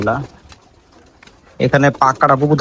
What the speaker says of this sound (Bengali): এই যে মাদি কবুতর